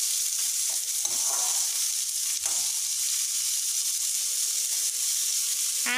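Chopped chutney ingredients sauté in a pan with a steady, close sizzle that runs unbroken throughout, with a few faint stirring scrapes along the way.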